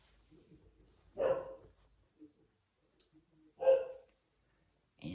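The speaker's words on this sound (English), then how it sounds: "And my dog's barking." A dog barks twice, a few seconds apart, each bark a short loud burst in an otherwise quiet indoor room during a sewing session.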